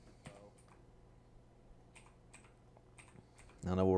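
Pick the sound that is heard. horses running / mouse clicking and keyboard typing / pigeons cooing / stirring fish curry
mouse clicking and keyboard typing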